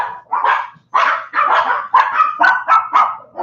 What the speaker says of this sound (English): Yes, go out there and bark.